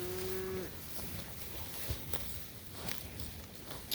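A heifer in a farm pasture gives one short, loud moo at the start, followed by soft rustling and footsteps in the grass.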